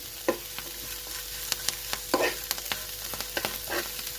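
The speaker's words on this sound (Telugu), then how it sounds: "ఈ ఆకు అనేది పచ్చిదనం పోయే వరకు గోలించుకోవాలి" Leaves fry in a pan while being stirred, giving a soft continuous sizzle punctuated by light scrapes and taps of a spatula, close and fairly quiet with no voices.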